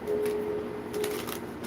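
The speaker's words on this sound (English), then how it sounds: "I'm going to shuffle a couple more times" Tarot cards are shuffled by hand, a soft, quiet papery riffle and shuffle with light rustling bursts against a faint background hum.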